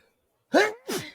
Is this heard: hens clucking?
no